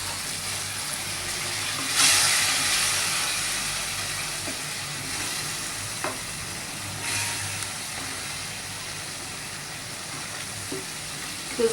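Thick gravy with a little added water sizzles as it cooks, giving a steady frying hiss throughout with a few brief clinks and scrapes, heard alone without talk.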